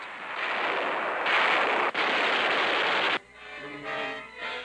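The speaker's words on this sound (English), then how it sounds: "Guns, camouflaged in nearby fields, score a hit." Camouflaged U.S. Army artillery guns firing from fields during 1943 fighting, a loud sustained roar of blasts with a brief break, then a quieter rumbling tail, with no voices.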